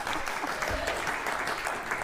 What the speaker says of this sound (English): I like that the loudest clap from the audience is the clap for you getting my credit card